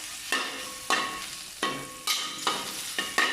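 Vegetables are stir-fried in a pan, sizzling in repeated bursts as the spatula tosses them about six times, each surge of hiss loud and close before fading, with no talking.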